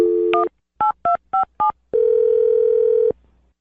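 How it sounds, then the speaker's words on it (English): A telephone gives a short tone, then four crisp DTMF key beeps are pressed in an even rhythm before a long steady ringback-style tone, all clear and close with no talking. "I'm dialing his phone number right now."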